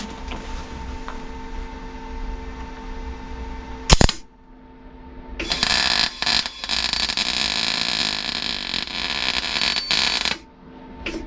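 Welding repair on the inner wing sheet metal of a Rover P6 car: a sharp crack, then a long, loud crackling buzz of the welder that stops and restarts a few times, close and alone against a steady electrical hum.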